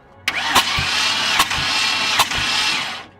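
Car engine cranking on the starter during a cylinder compression test: a loud, close, steady whirring churn lasting about three seconds, marked by a few sharp regular pulses, then cutting off.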